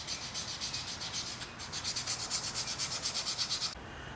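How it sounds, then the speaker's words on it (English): Custom knife handle scales rubbed back and forth on fine sandpaper, from 220 up to 2000 grit, making a close, rhythmic scratchy swish that speeds into even strokes before stopping abruptly. "Right now, I'm sanding them from 220 grit all the way to 2000 grit"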